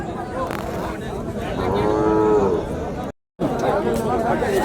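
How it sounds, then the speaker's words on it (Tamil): A cow moos once, long and clear, at a busy cattle market in Orappam, Krishnagiri district, over steady crowd chatter and voices talking throughout. "இங்கே ஒரு கிடாரி கண்ணு"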